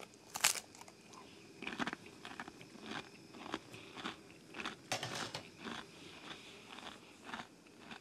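Someone eating buckwheat and cheese from a Russian military ration with a spoon, soft close chewing and crunching bites with occasional packaging crackle, quiet and intermittent.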